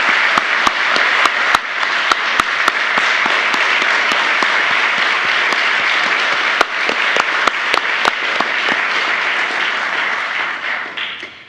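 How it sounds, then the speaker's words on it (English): Sustained applause from a large audience at a national youth forum honouring young presenters, a dense steady wash of many hands clapping with a few sharp individual claps standing out, fading slightly near the end. "Let's give our presenters another big round of applause."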